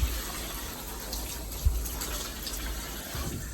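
Hot, rusty brown water gushes from a tap after a water heater replacement, a continuous moderate rushing stream with a couple of soft thumps and no talking.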